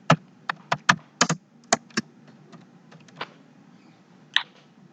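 Keys tapped on a computer keyboard while renaming a macro in a budget and expense tracker: a brisk cluster of separate clicks, then a few sparse taps, with quiet pauses between.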